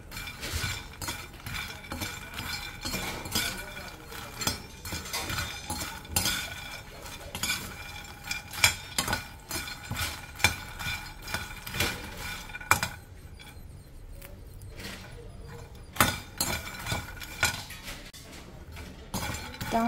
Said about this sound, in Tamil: தாமரை விதையை நெய்யில் வறுத்துக்கிட்டுருக்கேன்